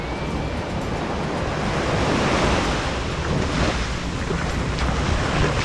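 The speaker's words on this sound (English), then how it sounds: "So we've been walking down the beach for 20 minutes or so." Waves wash onto Medano Beach in Cabo San Lucas in a steady, loud, broad surf roar, with wind buffeting the microphone and no voices.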